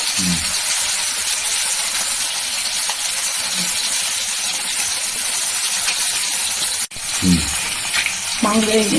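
Small potatoes coated in salt and turmeric fry in hot oil in a pan, a loud, steady sizzle throughout, broken by a brief clatter and a few stirring scrapes near the end.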